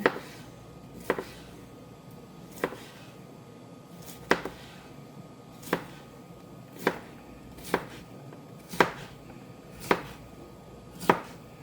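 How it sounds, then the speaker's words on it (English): Single knife chops fall at a slow, steady rhythm of about one per second, each a sharp, close tap on a cutting board as vegetables are sliced thinly for a spicy pork noodle bowl, with no talking. "Okay, and then we are going to cut them thinly"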